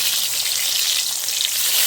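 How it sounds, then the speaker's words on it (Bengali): Eggplant pieces go into hot oil in a pan and sizzle loudly and continuously, a dense, bright hiss close up with no talking. "আমার তেলটা গরম হয়ে গেছে, আমি বেগুনটা দিয়ে দিচ্ছি।"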